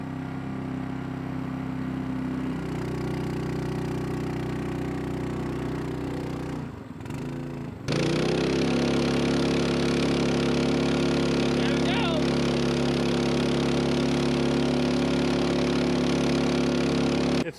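A small yard-built jet boat engine runs with a constant droning hum, cuts out briefly partway through, then comes back louder and rougher as the boat speeds up, with people talking over it.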